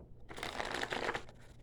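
A deck of tarot-style cards being shuffled, a steady papery riffling and rustling that runs nearly continuous and close at moderate volume, with no talk over it.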